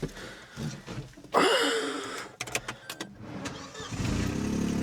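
The engine of a cheap used Opel runs roughly, with sharp backfiring pops and bursts over an uneven idle that ends in a steady, close running drone.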